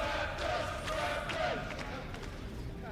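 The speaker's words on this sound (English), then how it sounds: "Yeah, the crowd cheering for the Raptors." A large esports arena crowd at a League of Legends EU LCS match cheers in a broad, steady roar, with a voice talking over the din throughout.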